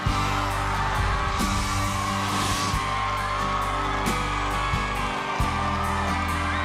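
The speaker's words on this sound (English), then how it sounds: "The crowd went berserk." A crowd cheers and yells wildly, loud whoops and shouts layered over sustained music and bangs, continuous and energetic throughout.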